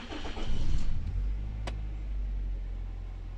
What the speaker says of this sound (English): I'm gonna start the car and see how the unit works